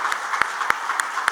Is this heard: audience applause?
yes